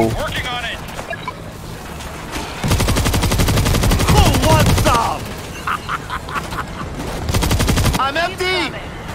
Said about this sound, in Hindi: इधर मेरे पास मशीन गन है, गन एक नंबर मशीन गन है इधर।